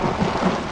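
Steady rain with a low, rolling rumble of thunder fills a brief moment of the horror video game Outlast, a continuous dense wash with no talking.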